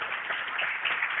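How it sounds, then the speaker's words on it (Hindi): Brief burst of audience applause at an academy award and interview event honoring IIT achievers, steady dense clapping heard through a narrow, muffled band. "एक तालियां बजाएं इनके लिए"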